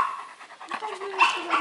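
A German shepherd pants quickly and steadily up close, with a thin whining tone running under the rhythmic breaths during ball play in Odessa.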